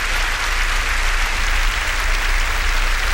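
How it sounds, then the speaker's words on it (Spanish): A congregation at a faith program applauds in a loud, dense, continuous wash of clapping that fills the whole moment without pause. "Pueden aplaudir a Jesús."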